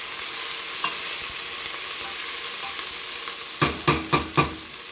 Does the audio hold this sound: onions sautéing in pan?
yes